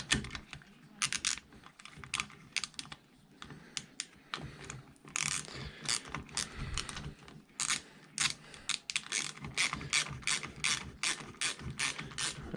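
A ratchet tightens bolts on the intake manifold of a Mini Cooper R50, giving quick bursts of sharp clicking in close, irregular runs with short pauses between strokes.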